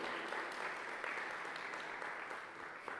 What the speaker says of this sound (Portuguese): Pode aplaudir, vai recebendo,